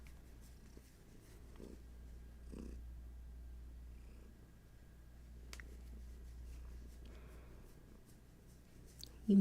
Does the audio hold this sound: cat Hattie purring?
yes